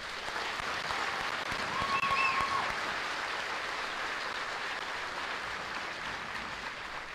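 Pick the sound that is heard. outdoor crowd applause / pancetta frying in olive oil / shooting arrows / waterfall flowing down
outdoor crowd applause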